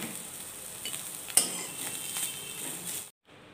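Bitter gourd fries in hot oil in a pan, a soft steady sizzle with a sharp metallic clink of utensil against the pan partway through, before the sound cuts off abruptly.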